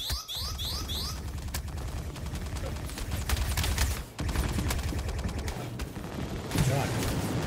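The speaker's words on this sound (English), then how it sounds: "Who's shooting me?" Gunfire during a ship-boarding fight in the Star Citizen video game: steady loud bursts of automatic fire throughout, with brief impact sounds and a voice speaking under the shooting.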